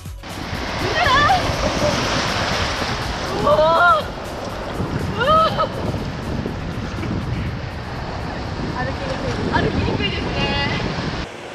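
Ocean surf rolls steadily at Nagahama beach in Nobeoka, a continuous loud wash of breaking waves with wind buffeting, while voices talk over it.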